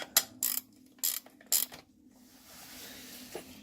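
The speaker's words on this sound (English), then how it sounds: "Get my ratchet wrench." A ratchet wrench turns during an automatic transmission column and range selector repair on a Ford Ranger: four quick, crisp bursts of ratcheting close by, then a faint hiss.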